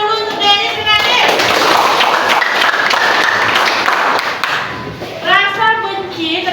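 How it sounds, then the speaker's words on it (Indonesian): Classroom applause from students, with dense clapping filling the middle seconds while children's voices talk over it near the start and again at the end. "tepuk tangan dulu untuk Denis dan Adit."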